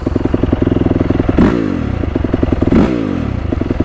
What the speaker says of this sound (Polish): Elegancko trzyma obroty, tak należy.